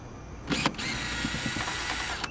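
A power driver whirs steadily as it backs a T30 Torx screw out of a 2018 Volkswagen Tiguan door panel, with a brief stop-start at the beginning and then a continuous close-up buzzing spin.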